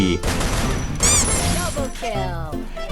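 An M60 machine gun fires in a video game, with dense, crackling bursts of rapid shots and loud impacts, close and chaotic, while a voice talks over part of it.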